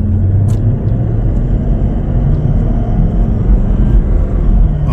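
Toyota 200 Series with an HPF power upgrade and transmission tune accelerating in normal mode at 40% throttle, a loud steady engine rumble heard from inside the cabin without a break.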